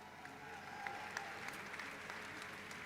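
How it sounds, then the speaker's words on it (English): Graduation crowd at a commencement ceremony for PhD, master's and specialised master's graduates applauding steadily throughout, a continuous, fairly distant wash of many hands clapping with no voices standing out. "Please give them a warm, huge round of applause."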